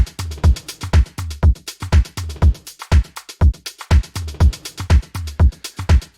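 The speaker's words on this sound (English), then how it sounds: "all the drums together sound like this" A full drum kit in a downtempo groove, with a gated room reverb preset mixed in lightly, plays a steady pattern of punchy kicks, snares and crisp hats, loud and alone.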